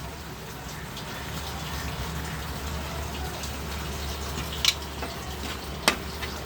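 Asafoetida goes into a sizzling tomato thokku mixture made without garlic or onion, with a steady faint frying hiss and two sharp spoon clinks as it is stirred in.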